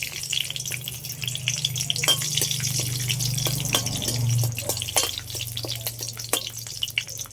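Two dried red chillies and four or five garlic cloves fry in hot oil. They give a steady, moderate sizzle with a low hum underneath and frequent sharp ticks and crackles as they are stirred.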